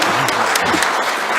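A crowd claps for Patrice Motsepe at his CAF presidency manifesto launch, a dense, loud, continuous wash of many hands heard close and filling the whole moment.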